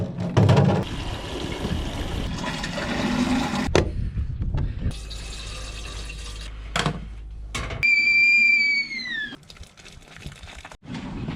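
Water runs from a tap in two long gushing bursts to wash parts from a yacht under restoration, separated by short pauses and followed by a brief rising whistle tone.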